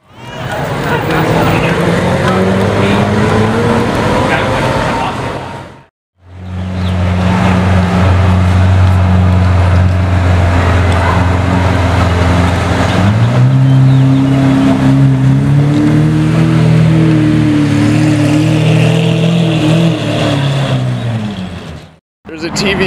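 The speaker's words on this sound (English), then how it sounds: "a TVR right there." A TVR Tuscan sports car revs hard and close, its engine note climbing and falling in rising sweeps, broken by two short gaps. Excited voices talk over the noise of the roadside crowd.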